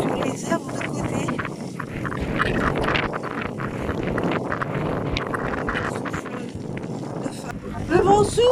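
Strong wind in Denmark buffets the microphone in a steady, loud roar throughout, with gusts rising near the end.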